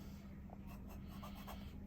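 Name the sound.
18 karat Montegrappa fountain pen nib writing on Rhodia paper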